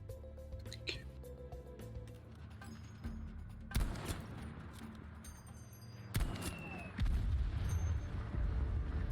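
Explosions and gunfire in the video game Battlefield V: distant pops and rattling shots, then two sharp booms with rumbling tails, ending in a louder, sustained roar of blasts.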